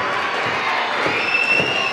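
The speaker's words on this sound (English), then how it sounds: "Listen to this crowd." A wrestling crowd at a RUGGEDPro pro-wrestling match roars and cheers steadily throughout, a dense, loud wash of voices with scattered whoops and shouts, with a thin whistle-like tone near the end.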